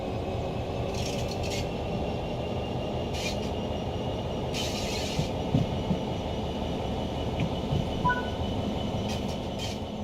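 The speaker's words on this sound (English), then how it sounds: "Apply some throttle to get the train moving." A train in Train Sim World 3 gets under way, producing a continuous low rumble and rolling drone with faint intermittent squeals and clicks, steady and unaccompanied by voices.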